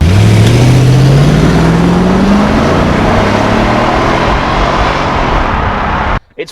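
A Jaguar XK8 convertible's big V8 engine drives past up close, loud and steady, its deep note rising in pitch as it accelerates, then cutting off abruptly near the end.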